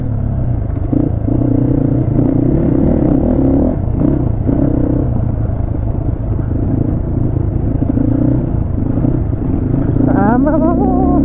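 A Duo HJ 250 motorcycle rides an off-road jungle trail from Tokha Check Point toward Dada Gaun, its engine a loud, steady, rumbling drone throughout, with a voice rising briefly near the end.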